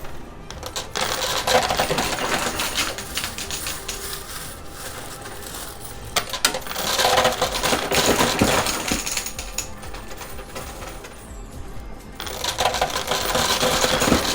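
Coins clatter and drop continuously in a high-limit coin pusher machine, with dense metallic jingling and rattling throughout and brief louder bursts as coins spill over the edge; no talking.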